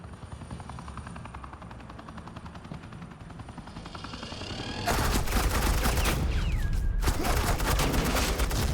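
Suppressing gunfire in Batman: The Enemy Within, loud dense automatic bursts that break out partway through over a steady helicopter rotor drone, with gunfire layered heavily throughout the second half.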